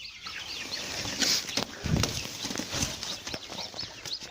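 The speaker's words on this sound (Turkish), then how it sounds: "Burada gördüğünüz gibi Karışık köy civcivleri var. Bunlar daha bugün çıktı." Mixed village chicks hatched today chirp in a brooder lined with thick pine shavings under a heat lamp, a steady busy chorus of overlapping peeps close by with no talk.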